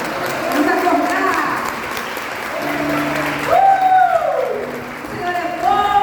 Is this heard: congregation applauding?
yes